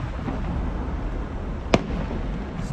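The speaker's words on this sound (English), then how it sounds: "Kennywood Park fireworks." A single fireworks burst from the Kennywood Park display, heard from a distance as one short sharp pop against steady outdoor background noise.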